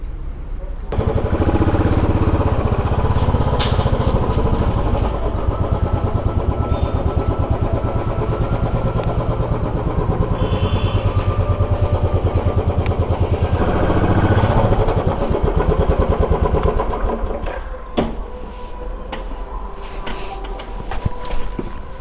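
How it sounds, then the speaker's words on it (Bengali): A motorcycle engine rumbles steadily and loudly at low revs as the bike rolls into a youth hostel beside a highway in Jaldapara, then cuts out near the end, leaving quieter ambience. "বাইক ঢোকা, বাইক ঢোকা"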